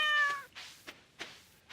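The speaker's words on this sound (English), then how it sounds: "Meow." A cat in the farming game Stardew Valley lets out one short, clear meow, followed by a few soft clicks in an otherwise quiet scene.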